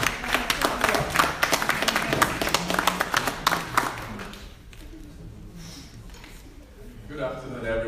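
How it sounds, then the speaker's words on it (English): A conference audience gives a speaker a round of applause, a crowd of hands clapping steadily for about four seconds before fading. Voices and room sounds follow afterward. "Please give him a round of applause."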